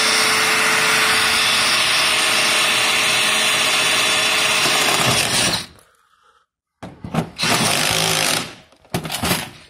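A Black + Decker drill bit grinds loudly and continuously into a lock for several seconds, then stops, followed by a few shorter bursts of drilling separated by brief pauses.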